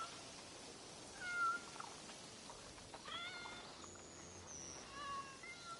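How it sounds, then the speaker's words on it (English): Kitten meowing in Assassin's Creed Shadows, a few short high cries over steady rain-like ambient noise, fairly faint and partly in the background. "another kitten over there"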